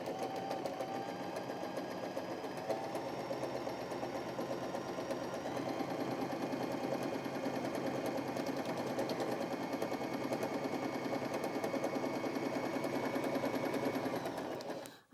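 A Janome J3-20 sewing machine stitches through fabric in a steady, fast mechanical chatter that runs unbroken and close for the whole stretch before stopping abruptly at the end.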